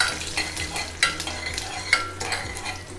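Mustard seeds, chana dal and a dried red chilli frying and stirring in hot sesame oil in a pan, a steady close sizzle with scraping stirs and a few sharp spattering pops.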